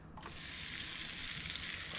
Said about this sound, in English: you can hear it sizzle, so it's nice and hot and heated